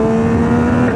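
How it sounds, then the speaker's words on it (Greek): A Yamaha MT-09 Y-AMT motorcycle engine drones loud and close at a steady pitch, then the tone dips and climbs sharply as it drops a gear near the end. "Στο D+, αλλάζει ταχύτητες μόνο του, αλλά άμα θέλω να κατεβάσω, τσακ, κατεβάζω"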